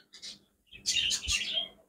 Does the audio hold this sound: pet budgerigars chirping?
yes